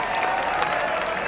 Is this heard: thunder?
no